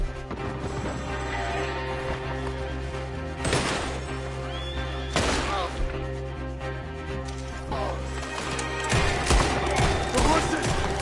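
Horses neigh and whinny amid a chaotic Red Dead Redemption 2 gameplay scene, with hoofbeats, bursts of gunfire and crashes layered over a busy mix, voices shouting in the background.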